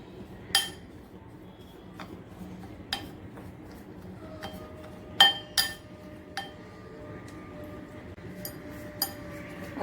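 Spoon clinking against a bowl while mixing semolina and flour dough with hot oil for panipuri puris, a series of sharp, scattered metallic taps in a quiet kitchen.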